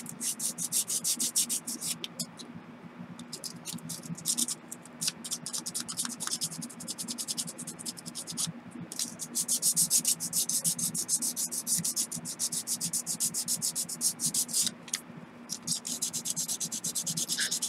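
A domino being roughed up with coarse 100 grit sandpaper, producing a close, continuous scratchy rubbing with quick repeated strokes throughout.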